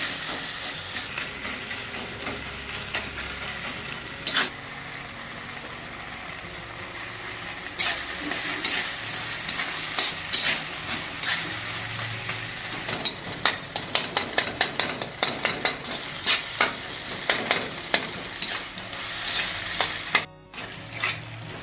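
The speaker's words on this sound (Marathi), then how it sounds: "हे बघा समस्त मस्त टमाटर कांदा आपला लसूण सगळं फ्राय झालेलं आहे" Onion, tomato, garlic and curry leaves fry in a pan for a Maharashtrian chickpea dish, a steady close sizzle with scraping stirs and clattering utensil knocks that grow busier toward the end.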